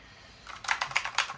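Mechanical keyboard switches being pressed, a heavier-actuation type that needs firm force to register, giving a quick burst of about five sharp, close clicks after a quiet start.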